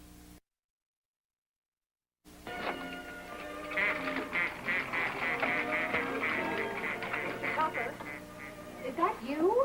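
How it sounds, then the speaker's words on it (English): A duck quacks repeatedly at close range in a domestic indoor scene, a run of nasal honking calls over a faint background hum, following a short silent gap at the start. "No, Katie, it's the duck."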